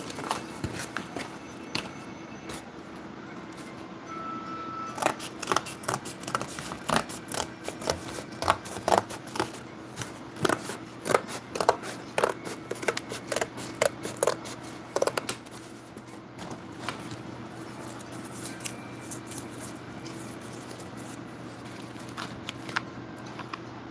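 Scissors snip through cardboard in a long run of quick, crisp cuts, close and fairly loud, with short pauses between bursts and no talking.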